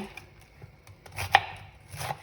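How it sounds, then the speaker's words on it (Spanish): A knife chopping cabbage on a cutting board for broth, a few scattered cuts with one sharp louder chop near the middle, close and alone. "picando repollo, que también le da muy buen sabor"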